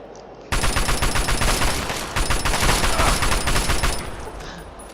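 Rapid bursts of automatic gunfire rattle through a Fallout 3 battle scene in dense, continuous volleys, loud and close, with a steady high whine running underneath and the shooting thinning out near the end.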